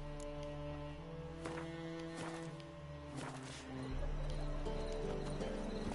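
A horse's hooves clip-clop and it whinnies in The Witcher 3: Wild Hunt, layered under steady background music, with some speech present.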